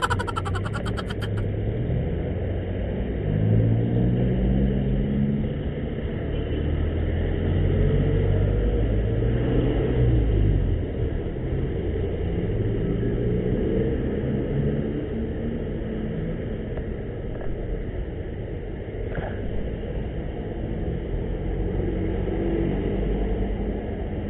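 Steady road traffic rumbles past near a mall in the Philippines, low engine drone and tyre noise swelling and fading as cars go by, fairly loud and continuous with no talking.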